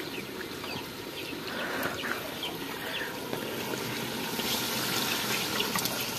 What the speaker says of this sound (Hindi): अभी जो है इसमें थोड़ा सा पानी ऐड करते हैं